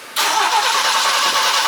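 A vehicle engine on half choke, with no throttle, fires up abruptly after a brief quiet moment. It goes straight into a loud, steady running roar close by.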